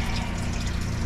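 A laundry washing machine on its rapid setting pumps water out through a discharge hose fitted with a microplastics filter, giving a steady, loud rushing and humming flow that holds without a break.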